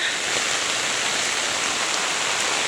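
Heavy, nonstop rain beside rising floodwater that has swamped houses, heard as a dense, steady roar of rushing water and downpour with no breaks and no voices.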